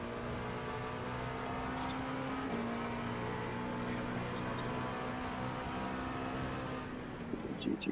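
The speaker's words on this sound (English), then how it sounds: "So watch his GTP passing you here while you're getting these guys." GTP prototype race car in the iRacing sim at Sebring during an IMSA endurance race, a steady engine drone with a shifting pitch, heard from inside a car as another passes, no talk.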